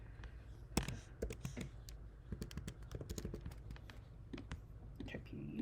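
Computer keyboard typing at a desk, scattered quiet key clicks in irregular bursts, faint and close, with soft background noise.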